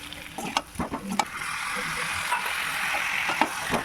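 Boiled potatoes stirred into sizzling fried spice masala in a pan, several scraping knocks of a spoon at first, then a steady frying hiss, close and fairly loud with no talk.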